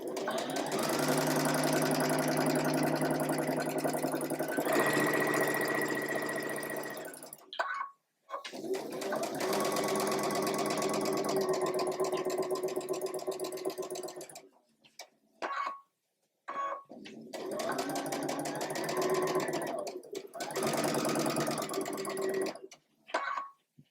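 Quilt block pieces for a sampler block are stitched on a sewing machine, several long bursts of steady motor whir and needle chatter broken by short pauses and quiet stops, close and alone.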